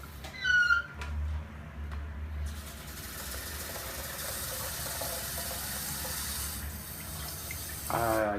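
Tap water runs steadily into a coffee machine's water tank, a continuous hissing pour after a brief clatter at the start, with a short squeak near the end.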